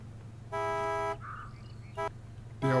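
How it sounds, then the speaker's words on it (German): Heavy truck horn in the video game SnowRunner honks three times: a long, loud blast, a brief toot, then another blast starting, all over a steady low engine rumble. "der auch die dicken Hupen hat, seht ihr das, wenn er hupt hier, was das für eine Druckwelle kommt"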